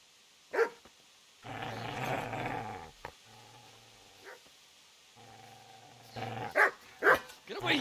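Dog in the video game Kingdom Come: Deliverance barking and growling in bursts, with rough growls in between sharper barks, mixed with a male character's voice.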